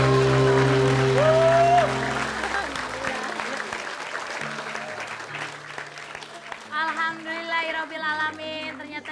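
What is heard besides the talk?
audience applause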